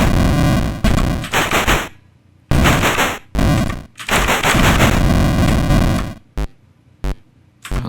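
Harsh, loud electronic bursts of shooting noise from the video game Space Invaders, several long blasts broken by short gaps and ending in quick clipped pops, with no voices.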